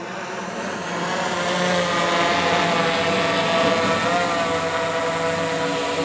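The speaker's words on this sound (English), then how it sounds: "the drone will then return to its original point" Steady high propeller whine of a DJI Mavic 3 drone flying back toward its starting point, swelling louder after the first second and holding a continuous buzzing drone tone.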